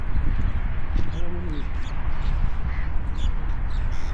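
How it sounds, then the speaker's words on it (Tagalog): A crowd of crows cawing with pigeons also about, in Saudi Arabia, set against steady outdoor background noise while people talk over the calls throughout. "Mga uwak po yan."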